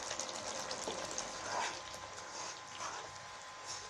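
Ground coriander, salt, chillies and turmeric roasting in a pan for achari chicken, with a soft, continuous sizzle and faint stirring scrapes, close and steady.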